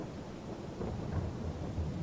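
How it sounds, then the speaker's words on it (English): Steady rain hisses in Farming Simulator 22 while a low rolling thunder rumble builds underneath. The whole scene is fairly quiet and continuous, with no voices. "Since it's raining"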